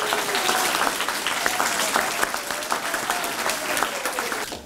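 An audience claps for children who completed a summer reading challenge, a steady, dense round of applause with sharp individual claps throughout, fairly close and without talk.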